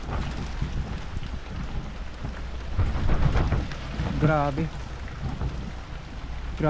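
Heavy typhoon rain pours steadily with low rumbling thunder during a signal number 4 storm, while a person speaks briefly over it.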